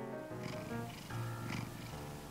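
A cat purrs close by, a soft, continuous rhythmic rumble that swells and eases with each breath, alone without talk.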